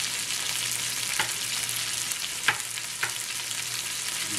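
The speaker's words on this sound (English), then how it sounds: "I'm going to toss them in the old pan of roux and fry them too." Fresh cut potatoes fry in a pan of roux, giving a steady close sizzle throughout with a few soft stirring clicks and scrapes; no one speaks.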